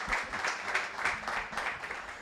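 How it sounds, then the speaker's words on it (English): An audience at a candidates' event claps for the moderators in a steady, rhythmic beat of fairly loud, even claps. "Clap it up. Clap it up."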